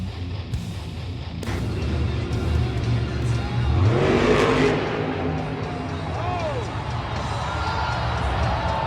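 Monster Jam monster truck over-rotating a backflip and rolling over backwards in an arena: a loud roaring, revving engine with tire noise, a surge and crash-like burst near the middle, and crowd cheering throughout.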